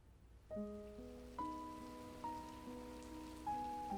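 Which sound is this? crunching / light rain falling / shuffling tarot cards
light rain falling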